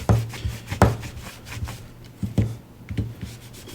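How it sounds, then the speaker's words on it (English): Oil being rubbed onto the slide of a Glock 17 Gen 3 pistol by hand: soft, close scrubbing strokes with a few brief scuffs, quiet and irregular, no speech. "I just like to rub down the slide with it"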